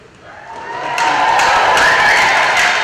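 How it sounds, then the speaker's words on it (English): Crowd cheering at a youth Bantam AAA hockey tournament's opening ceremony in an arena, a broad roar of voices swelling after the first second and holding steady and loud to the end. "give me an example of cheering"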